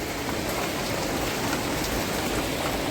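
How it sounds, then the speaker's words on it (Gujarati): Heavy rain falls in a dense, unbroken hiss of drops striking surfaces, loud and even throughout with no voices. "જો અત્યારે ફૂલ વરસાદ ચાલુ છે."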